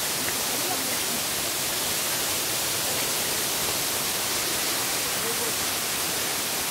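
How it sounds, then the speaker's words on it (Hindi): A waterfall in the Ayodhya hills of Purulia produces a dense, continuous rushing hiss of falling water. It stays loud and even throughout, with no breaks. "और यहाँ पे ये खूबसूरत झरने"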